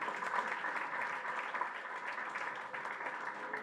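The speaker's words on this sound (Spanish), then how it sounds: "un fuerte aplauso para el doctor Jorge Cohen" Sustained applause from an audience at a national labor-violence network meeting, a dense wash of clapping that stays steady and fairly loud throughout with no voices over it.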